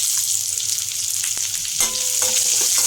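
Thinly sliced onion dropped into a hot tempering of chillies and curry leaves for vegetable khichdi, giving a steady close sizzle and crackle with a few stirring scrapes.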